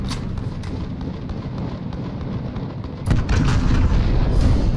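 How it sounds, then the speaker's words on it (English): Cruise missile strike in the video game Modern Warfare, a steady roar of rumbling blasts that swells into a louder burst of heavy explosions partway through. "Allied cruise missile away."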